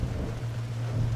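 Rain falling on a wet circuit in Forza Horizon 5, a steady wash of noise over a low, continuous engine drone from a Ferrari F40 Competizione.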